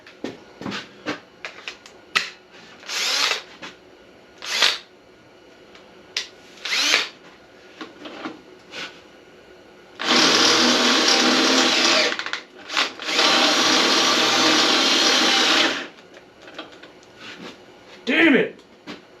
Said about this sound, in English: This is why I hate battery operated drills.